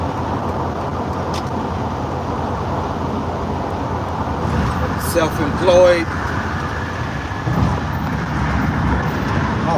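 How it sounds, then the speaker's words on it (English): Interior hum of a car moving through road traffic, a steady loud low drone with passing-vehicle swells, while someone talks over it. "so we're gonna do this while I'm in traffic."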